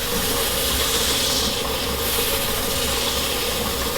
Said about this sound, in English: turn the lathe on.